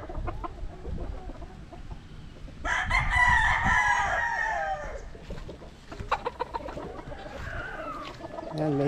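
A Gilmore Hatch over Papay Gray gamefowl rooster gives a loud, drawn-out crow near the middle, with clucking and other farmyard fowl noise before and after, close by in an outdoor yard during light rain.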